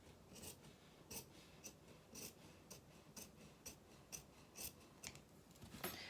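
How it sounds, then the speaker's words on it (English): Quiet scissors snipping through kilt fabric, a series of short crisp cuts at a fairly even pace, close but faint. "I'm just going to snip that fabric off."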